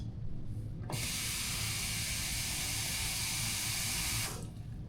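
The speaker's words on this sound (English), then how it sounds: "Decent enough water we are putting in it" A strong stream of water rushes into a blender with a sudden start, pours steadily for a few seconds, then stops abruptly.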